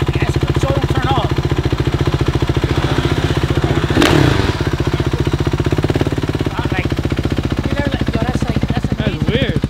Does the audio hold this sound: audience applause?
no